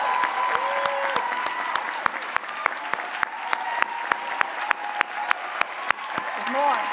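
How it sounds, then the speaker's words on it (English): An audience at a medical school class day ceremony applauds the women faculty, a steady, moderately loud clapping crowd with a few sharper claps standing out near the front and a voice speaking briefly over it. "Let's have them stand and give them a round of applause."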